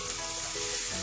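Finely chopped onions sautéing in hot oil with asafoetida in a large pot, a steady close sizzle and crackle filling the whole moment with no talk.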